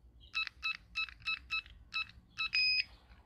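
A series of short electronic keypad beeps from a Soca ST 320 access keypad, about eight evenly paced tones, ending in a longer two-tone beep confirming a card deletion, clear against a quiet background.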